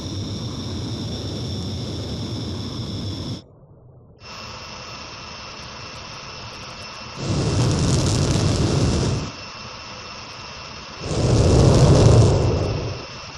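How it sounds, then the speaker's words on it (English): Jet fighter in the Ace Combat Zero video game throttling up for takeoff, a steady roaring engine drone that cuts out briefly, then resumes and swells twice into louder afterburner surges, with no talk heard. "you are cleared for takeoff"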